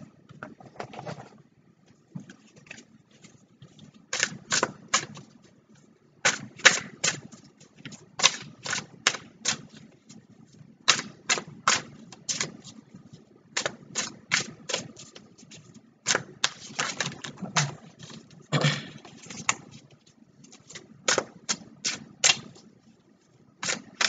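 Tarot cards riffle, snap and slap together in quick bursts of crisp clicks while a deck is shuffled and cards are pulled, close up with short pauses between runs.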